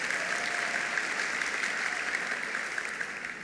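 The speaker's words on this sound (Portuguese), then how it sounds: "pode dar uma salva de palmas" A congregation breaks into a dense round of applause during a Bible-study sermon, steady and full for a few seconds before tapering slightly, with no one speaking over it.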